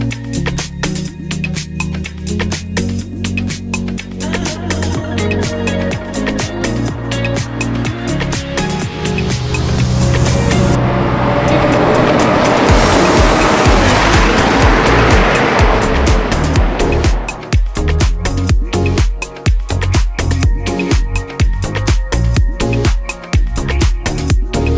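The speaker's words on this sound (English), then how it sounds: "let's jump in the McLaren Senna, see what this thing's all about" A 2018 McLaren Senna supercar drives hard, its engine loud and close with rapid rising and falling revs and gear changes, a sustained roaring rush of wind and road noise midway, then sharp revving bursts again.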